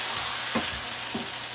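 Potato leaves fry in a pan with meat drippings, giving a steady, close sizzle with a couple of soft stirring scrapes.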